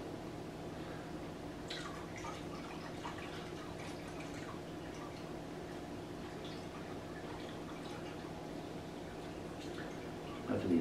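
A slow, thin trickle of water pours steadily into a gallon jug, faint and continuous, with a low hum in the background.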